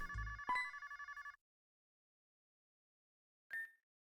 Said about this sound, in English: A phone? Who would be calling?